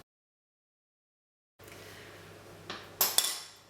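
Sticky golden syrup scraped off a metal spoon into a pan for ANZAC biscuits, heard after silence as a soft hiss followed by a few close clinks and scrapes of metal on metal.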